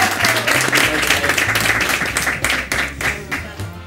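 Audience applause at a live stage show, steady dense clapping filling the whole stretch over a low rhythmic music bed.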